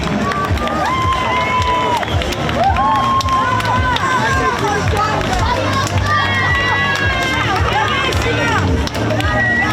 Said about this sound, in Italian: Un applauso alla Mimì.